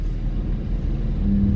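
A car engine rumbles low and close for a brief moment, its tone rising slightly near the end as the revs climb during a gear change.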